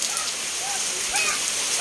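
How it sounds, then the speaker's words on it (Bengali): Heavy monsoon rain pours down in a steady, dense hiss, with a few faint bird or voice chirps rising briefly above the downpour. "এখন মুষলধারে বৃষ্টি নেমেছে"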